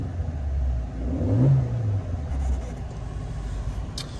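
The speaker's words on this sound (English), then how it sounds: "I'll give it a little rev for you so you can see that as well." A 2020 Suzuki Jimny engine idling, then given a single short rev that swells and falls back to idle, close and moderately loud with no talk over it.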